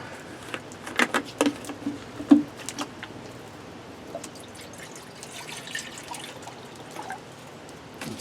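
Water is poured into a camping pot outdoors, with irregular splashes and drips that are louder early on and then trail off into faint trickles.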